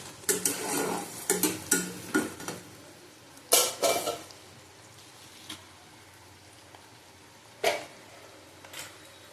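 Oil pan clatter and stirring: a spoon scrapes and knocks against a pot in sharp bursts while onions, bay leaf, whole garam masala, nigella seeds and green chillies fry in oil with a soft sizzle underneath.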